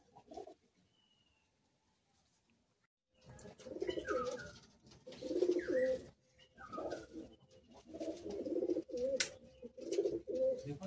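Madrasi pigeons coo in repeated soft, throaty rolling phrases, close by and moderately loud, starting after a few quiet seconds and continuing in overlapping bouts.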